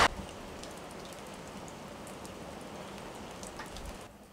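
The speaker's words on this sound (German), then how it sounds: "Das war mal ein ordentlicher Gewitterschauer. Richtiger Wolkenbruch wieder" Heavy thunderstorm downpour pouring steadily and loud, a dense continuous hiss of rain on surfaces with scattered louder drops, cutting off abruptly near the end; no voices.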